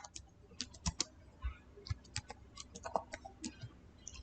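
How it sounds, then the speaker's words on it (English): Keys on a computer keyboard are tapped in quick irregular clicks, faint and close, with no talking. "then type here Google Chrome"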